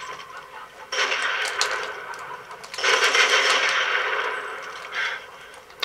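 Shotgun blasts and dual magnum pistol shots in a Modern Warfare 3 free-for-all online match, two dense bursts of loud layered gunfire and game effects, each lasting a couple of seconds, with a sharp single crack at the end.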